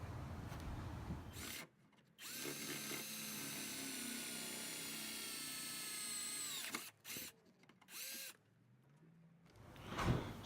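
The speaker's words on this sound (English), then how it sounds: "So I'm gonna drill it right now here." A power drill whines steadily for several seconds, boring a hole, then stops and gives a few short bursts; faint background noise between.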